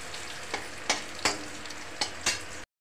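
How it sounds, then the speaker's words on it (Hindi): Finely chopped onions fry in hot oil for chicken korma, a close continuous sizzle with regular spoon scrapes and clacks of stirring every half second or so, ending abruptly. "प्याज को अच्छे तरह से हमें तल लेना है, भून लेना है, जब तक ये गोल्डन ब्राउन ना हो जाए"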